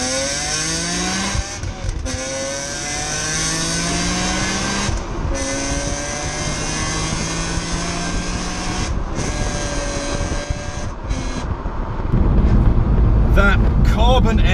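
A BMW E46 M3 CSL engine with a carbon airbox, a loud, sustained engine note with rising and falling harmonics like revving passes, continuing steadily before a rougher, louder surge near the end.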